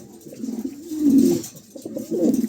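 Pigeons cooing close by in soft, throaty, rolling phrases, two or three low swelling coos in quick succession with no other sounds.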